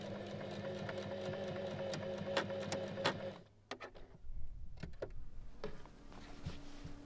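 A sewing machine stitches through a pocket onto the seam allowance of a robe's back bodice, a steady close mechanical whir for a few seconds, then stopping into scattered clicks and handling noises.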